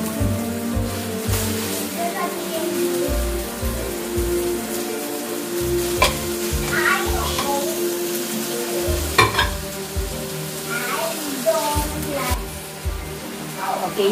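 Beef sautéing in a hot pan for pansit batil patong, a continuous loud sizzle with rhythmic scraping and clanking of a stirring utensil against the pan.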